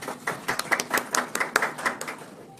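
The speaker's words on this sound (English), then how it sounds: "Is it just me, or are those claps very, very timid?" A few people give timid, sparse applause at a contract signing, with uneven individual hand claps patting in a loose rhythm for a couple of seconds, close by and with no speech.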